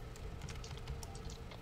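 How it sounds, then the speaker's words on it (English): Rapid, uneven typing on a computer keyboard, close and fairly clear, with a dense patter of key clicks over a low background hum. "Stop typing and just go."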